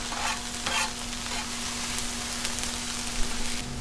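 Hash browns fry on a Blackstone griddle with a steady, close, hissing sizzle throughout, brief louder crackles near the start, and no talking.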